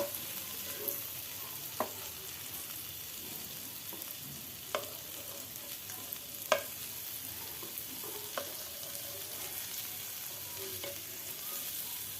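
Eggs fry with masala in a pan, a quiet steady sizzle broken by sharp intermittent clicks and scrapes of a spatula turning them, close and low-level.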